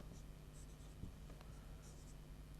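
Pen or marker scratching quick strokes while writing out a math question, close and soft, continuous short scribbles without speech.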